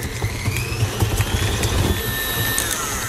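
An electric mixer whisks unsalted butter for shortbread pastry dough, a loud close whirring motor with a steady whine and quick rattling pulses as the beaters turn.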